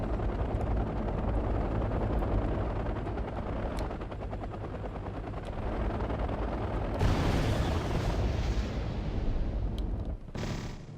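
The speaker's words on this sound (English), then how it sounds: "Damn, that helicopter doesn't want to crash." A helicopter goes down in the war strategy game Wargame AirLand Battle amid a battle, with a steady rotor drone under rattling gunfire and bursts of explosions, a loud rushing crash noise near the end.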